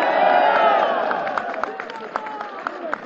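A large political rally crowd at a PTI convention in Peshawar shouts and cheers loudly, then breaks into scattered, rhythmic clapping as the roar fades.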